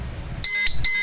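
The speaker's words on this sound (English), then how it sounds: "First alarm or warning." A motorbike alarm disc lock sounds its first warning: two loud, shrill electronic beeps in quick succession, close and clear against near silence.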